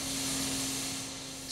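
A replica Penydarren steam locomotive vents steam in a continuous soft hiss with a steady low hum beneath, ending in a brief louder burst of hiss.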